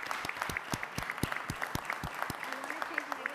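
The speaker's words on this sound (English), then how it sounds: "So I want to give you a big round of applause as well." Applause at a city council meeting, fairly sparse and moderately quiet, with distinct rhythmic claps standing out over softer background clapping and a faint voice beneath.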